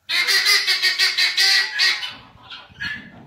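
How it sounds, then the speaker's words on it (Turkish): A guinea fowl calls in a rapid run of harsh, rhythmic cackling bursts, loud and close, then trails off into a couple of softer calls. "Beç tavuğunun sesini de duymuş oluyorsunuz arkadaşlar"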